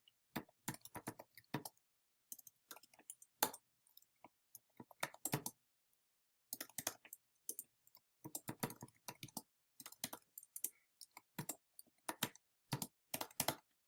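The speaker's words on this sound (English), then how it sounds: "so you can keep typing" Rapid computer keyboard typing in quick bursts with short pauses, close and crisp, no voices.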